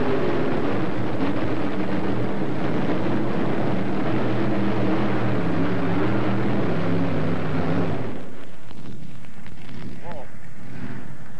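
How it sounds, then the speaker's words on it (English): Pulling tractor engine at a 1996 championship tractor pull in Freedom Hall, a loud, dense roar that fills the first eight seconds, then drops away abruptly, leaving fainter arena noise and some talk. "for the 1996 championship tractor pull."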